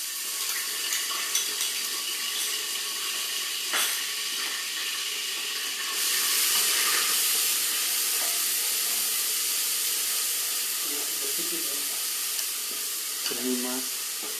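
Grated onions hit smoking-hot oil on a lowered flame, giving a steady broadband sizzle that swells louder partway through, with a few scrapes and clinks near the end and no talking.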